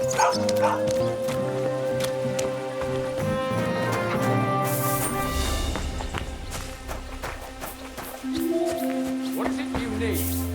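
A dog in the medieval video game Kingdom Come: Deliverance 2 gives barks and yips amid game music and ambience, while a character speaks over part of it.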